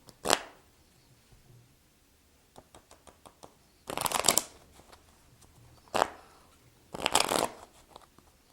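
Playing cards are shuffled by hand in an overhand shuffle, brisk papery riffles and flutters in several separate bursts, with light taps and handling between them, close and quiet.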